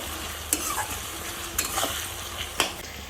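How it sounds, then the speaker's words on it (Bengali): Chicken pieces go into a pan of softened onions frying in oil, a steady sizzle with a few sharp scraping stirs spaced about a second apart, close and without voices. "এবার এই চিকেনগুলোকে আমি একটু একটু করে এই পেঁয়াজের সাথে দিয়ে দেবো"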